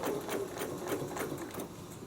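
Sewing machine stitching rapidly with a Westalee ruler template while quilting snowflakes, a quiet, even mechanical chatter of needle strokes running steadily throughout.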